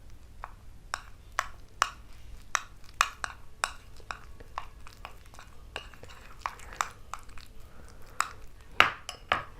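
A strawberry face mask is mixed with gram flour in a small bowl: quiet, close clicks and taps of a spoon against the bowl come in a fairly regular stirring rhythm with faint scraping between them.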